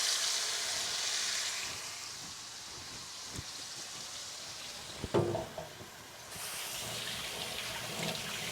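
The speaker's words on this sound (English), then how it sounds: "this is like pan frying, not really deep frying." Steady hissing sizzle of chicken pan-frying for butter chicken, with a few soft clinks and scrapes partway through before the sizzling resumes.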